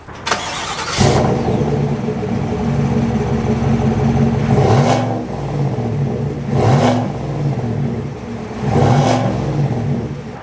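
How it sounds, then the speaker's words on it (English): A V8 truck engine starts, then settles into a deep rumbling idle, punctuated by three loud revs through an active exhaust, close by. "this one has an active exhaust, so it sounds good too. Let's take a quick listen"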